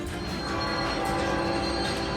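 Heavy, continuous rumble of a freight train passing close by at a crossing, with a droning metallic whine running through it.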